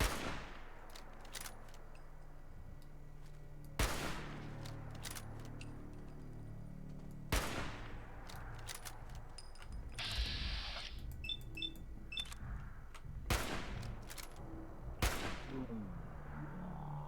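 Gunfire aimed at a rad stag in Fallout 4 rings out as sharp, loud single shots spaced a few seconds apart, separated by quieter stretches of ambient game sound and a brief mechanical clatter in between.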